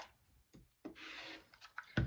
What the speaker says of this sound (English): I need to cut both of these in half on the diagonal. And you see that I've got my new rotary cutter